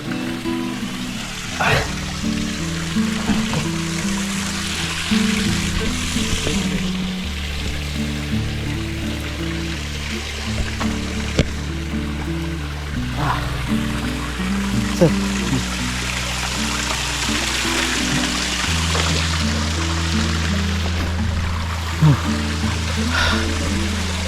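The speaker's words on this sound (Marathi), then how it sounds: "इथे पाणी येतं आहे." Steady running water from a stream at a fishing spot near a small channel, a constant trickling wash heard close by throughout, with outdoor background noise and faint low hum.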